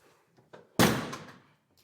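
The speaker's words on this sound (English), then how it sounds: "I bet the doors shut lovely on it, do they?" A rally car door swings shut with one solid, loud slam after a couple of faint clicks, the thud decaying quickly, with no speech over it.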